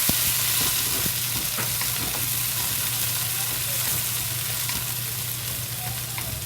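Chopped green onions and cilantro sizzle steadily in hot oil, a dense, continuous frying hiss close up with faint scraping, and no one talking.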